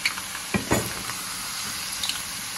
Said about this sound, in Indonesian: Kita akan gorengkan halia dulu.